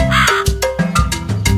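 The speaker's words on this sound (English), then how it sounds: "What does a crow say?" A crow caws loudly and close by, giving a quick series of four or five harsh, raspy calls in steady succession with no voices over it.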